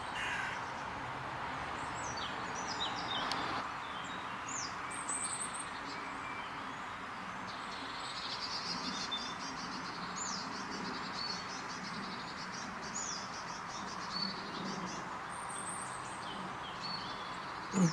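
Small birds up in a tree give high, scattered calls over a steady outdoor wash, with a crow-like caw now and then; the calls are fairly faint and intermittent, with no talking.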